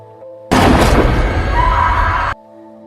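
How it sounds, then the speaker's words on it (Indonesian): A single loud, sustained pistol blast in a film bursts in suddenly, roaring for about two seconds before cutting off abruptly. "Om lalu mengeluarkan pistol dan menembak si Babang."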